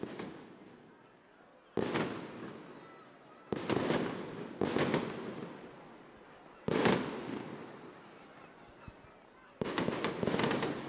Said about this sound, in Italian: Ecco gli spari che non si fanno mancare neanche quest'anno